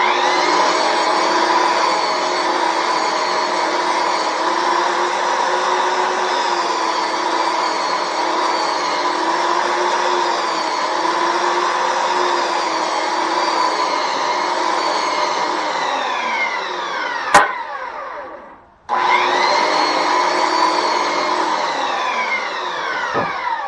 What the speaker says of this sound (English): If you have a belt sander and you don't have a benchtop sander